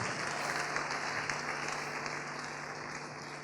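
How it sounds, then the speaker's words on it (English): Audience applause for comedians at a Nigerian comedy event: steady, dense clapping from a crowd, moderately distant, holding at an even level for the whole stretch with a faint low hum underneath. "Give them a round of applause."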